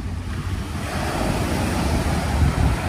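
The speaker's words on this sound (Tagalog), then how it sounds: "ang lakas naman kasi ng alon" Strong surf pounds the shore at Dolomite Beach on Manila Bay as a steady, loud roar, with gusty wind buffeting the microphone the whole time.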